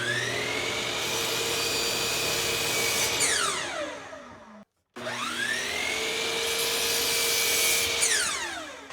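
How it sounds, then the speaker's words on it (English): Power saw trimming the ends off wooden table leg blanks: two cuts, each a loud whine that rises as the blade bites in and falls away, separated by a short silence, close and without voices. "I'm going to trim off the end first, and then I'm going to set up my stop so that I can cut them all the same length"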